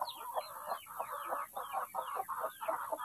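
A brooding hen, long settled on her eggs, clucks in a steady string of short, close grumbling calls, evenly repeated and alone with no talk.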